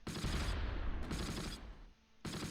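Sustained gunfire and explosive bursts from the WWII game Close Combat Last Stand Arnhem, Valkenswaard, 17 September 1944; dense, loud, overlapping volleys with a brief dip near the end before another burst.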